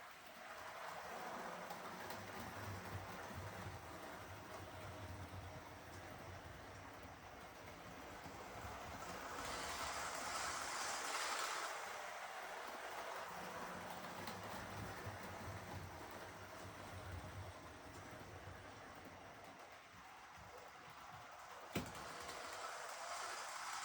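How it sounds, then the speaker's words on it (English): A model railway train runs on its track, a faint, steady mechanical whir and hum with a swell in the middle, a slight rattle and a single sharp click near the end, heard alone without talking. "let's get the train going"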